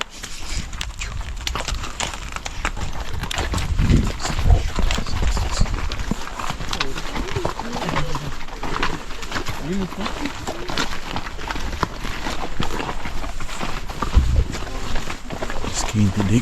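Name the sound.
horse hooves clip-clopping on a path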